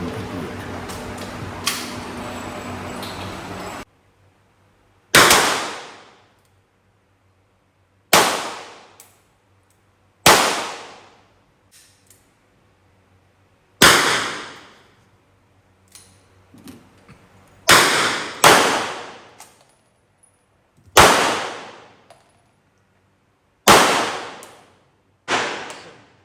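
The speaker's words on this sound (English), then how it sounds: "Now they're going for a second round. We're shooting on block 17." Gunshots at a shooting range in Thailand, about nine sharp, loud reports spaced a few seconds apart, each trailing into a short echoing decay, after a brief stretch of background noise at the start.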